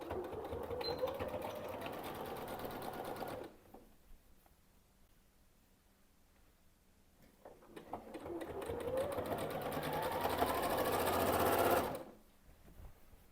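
A sewing machine stitching down quilt binding runs in two steady whirring bursts with a quiet pause between, the second rising in speed before stopping abruptly.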